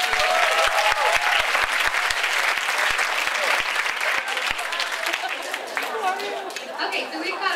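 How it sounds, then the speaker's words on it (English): Audience at a high school talent show breaks into sustained, loud applause, dense clapping filling the room with crowd chatter mixed in, fading slightly toward the end. "Let's just give our judges a round of applause."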